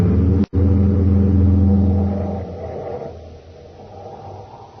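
Car engine rumbling as a radio drama sound effect: a deep, loud motor drone with a brief dropout near the start, then fading away gradually toward silence.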